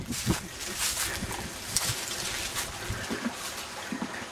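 Steady broadband rush of creek water flowing close by, with scattered footsteps and small bumps over the continuous wash and no speech.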